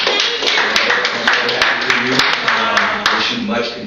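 A group claps at a DryerBuzz launch lunch and live stream, a steady run of sharp hand claps close by with a lively, slightly uneven rhythm.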